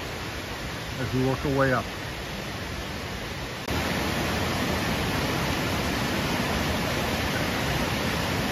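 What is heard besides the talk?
Cork waterfall flowing after rain, Ireland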